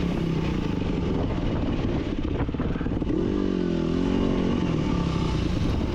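Enduro motorcycle trail riding at Sand Hollow, a steady close engine drone with rising and falling revs and some clatter, heard alone for several seconds.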